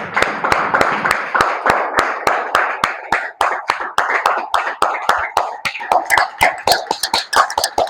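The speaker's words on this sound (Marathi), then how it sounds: "आपल्या प्रभू येशूसाठी जोरदार टाळ्या वाजू, जोरदार." A church congregation clapping loudly in unison, a fast steady rhythm of sharp hand claps repeating evenly for several seconds, close and dominant, with no voices over it.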